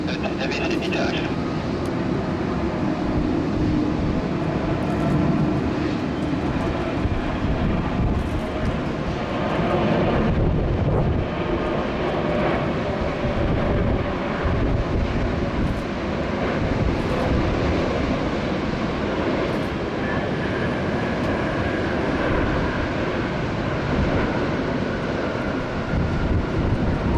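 Aircraft arriving at Sydney Airport, a steady broadband engine roar that holds at a moderate level throughout, with wind buffeting the microphone and occasional talk over it.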